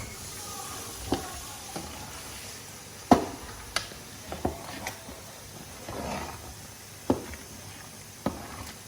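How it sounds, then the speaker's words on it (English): Low bubbling and simmering from a pot of thickening stew, with scattered sharp pops and clinks over a steady hiss. "our stew is boiling"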